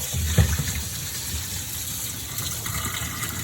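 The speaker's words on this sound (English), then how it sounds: "I'm running the cold water on it" Cold tap water gushes steadily over cooked pasta in a strainer, a close, continuous rushing splash with no break and no talking.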